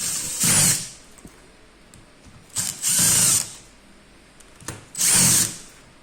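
A power drill with a T25 bit whirs in three short bursts, each lasting about a second, separated by quiet pauses with faint handling clicks, while replacing the processor in a compact circuit breaker.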